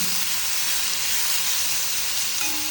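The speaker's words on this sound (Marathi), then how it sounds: "टमॅटो आणि कांदा वगैरे हे सगळं व्यवस्थित भाजून घ्यायचं" Onion and tomato frying in a pan, giving a steady, even sizzle that hisses on without a break.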